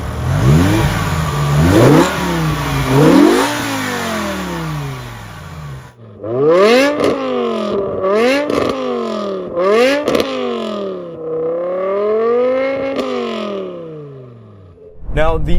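A BMW E63 M6 V10 revs hard several times, the pitch sweeping up and down in sharp rising and falling blips with a raspy exhaust note, loud and close.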